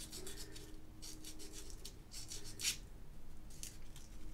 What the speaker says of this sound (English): I also take some 320 grit sandpaper, put it in the hole, and help sand some of that rough edge off.